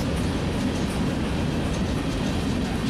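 Norfolk Southern freight NS-25A, led by a Union Pacific Thunder Cab locomotive with a second NS unit trailing, rolls past in Ohio, giving a steady, close, loud rumble of rail cars and wheels throughout with no talk.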